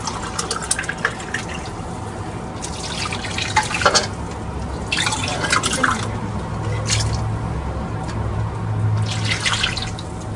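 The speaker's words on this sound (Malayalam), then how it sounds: "ആ ഇറച്ചി വേവിച്ച സ്റ്റോക്ക് നമ്മൾ ഇതിലോട്ട് ഒഴിക്കുകയാണ്" Beef cooking stock poured into a pot of rice for beef mandi, a steady liquid splash with dripping bursts running throughout at moderate loudness.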